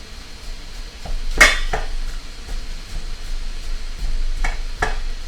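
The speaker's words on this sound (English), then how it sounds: "we'll get our spatula to push everything down onto the onions" A spatula clatters against a pan as food is pushed down onto onions, with a few sharp metallic knocks and scrapes over a faint sizzle, close and with no talk.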